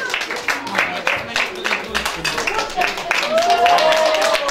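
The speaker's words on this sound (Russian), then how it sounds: "Аплодисменты Владимиру." An audience applauds as Vladimir Parfenov is welcomed at a costume contest event, bursts of clapping that pulse throughout while a host keeps talking over them.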